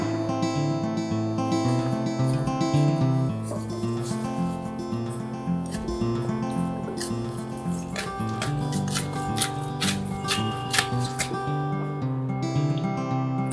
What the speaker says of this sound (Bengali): বাটার জন্য আমি এখন কচুটা কেটে নিচ্ছি।